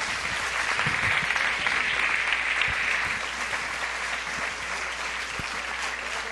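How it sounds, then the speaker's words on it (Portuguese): A church congregation at an evangelical anniversary service gives steady, dense applause throughout, a broad wash of many hands clapping together. "aplauda ao Senhor em nome de Jesus"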